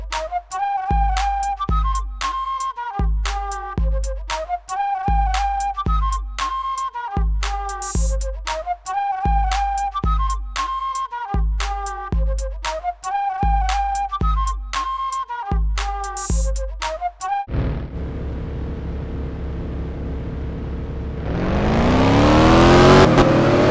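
Race cars in the Driving School 2017 video game roar and rev up loudly over the last few seconds, following a long stretch of rhythmic, beat-driven game music.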